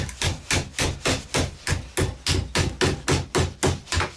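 A steady run of hammer strikes shaping a Yugoslavian mess tin lid over a wooden block, roughly fifteen close, ringing blows in a quick regular rhythm.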